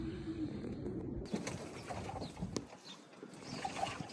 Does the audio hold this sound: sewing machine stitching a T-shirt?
no